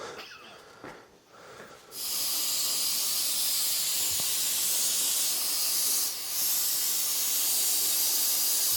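An aerosol cleaner can sprays a metal part before welding in a garage, a sudden loud, steady hiss that starts after quieter handling noises and runs on with one brief dip.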